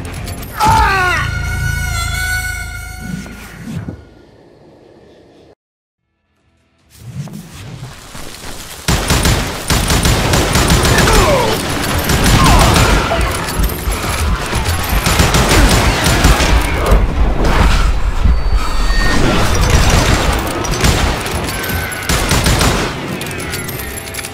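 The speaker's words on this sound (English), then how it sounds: "Robert Ollinger appeared with his terrible double-barrel shotgun." Double-barrel shotgun blasts and dense gunfire in the Western shooter game Call of Juarez: Gunslinger, loud and close, with a brief silent gap followed by a long sustained barrage of shots, impacts and clattering mechanisms.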